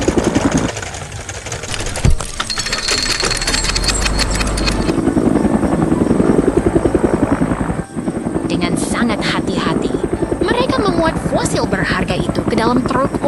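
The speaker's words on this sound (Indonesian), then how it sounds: "Sebuah helikopter merah datang untuk membantu mengangkat temuan bersejarah ini." A helicopter's rotor throbs steadily with a heavy engine drone, loud and close, while a voice talks over it.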